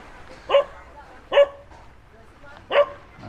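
Dogs bark on a beach, three separate barks spaced about a second apart, moderately close over quiet background.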